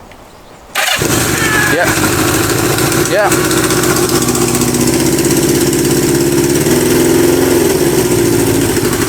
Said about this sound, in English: So I think now this bike should fire up.